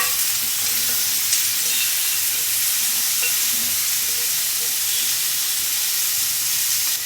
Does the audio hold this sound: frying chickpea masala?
yes